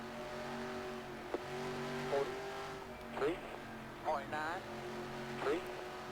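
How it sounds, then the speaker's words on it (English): A semi truck pace car drives around the track in a racing video game, its engine droning steadily with a few short revving swells, while someone talks over it. "Got the Spline Design Studio semi out on the track there, pacing the field."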